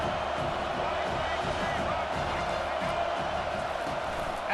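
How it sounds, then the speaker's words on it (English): Stadium crowd at an American football game roaring to back the home defense, a dense, sustained wall of cheering that stays loud throughout, with commentary talking over it. "The roar of the crowd trying to fuel this defense to keep them pinned in their own end"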